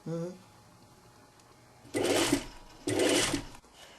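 A sewing machine overcasting the edge of a sleeve seam on a tunic shirt, two close, loud bursts of fast whirring stitching about a second each with a short pause between, a voice briefly at the start.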